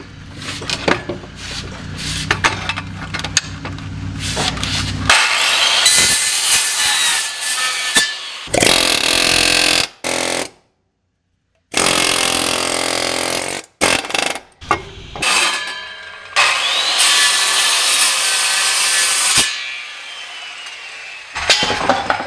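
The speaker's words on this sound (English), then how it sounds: "Look at that nice clean skill saw aluminum cut with the wood blade." A circular skill saw with a wood blade cuts through aluminum plate, giving loud, harsh bursts of whining, grinding cutting that stop and restart several times, with brief silent gaps between passes.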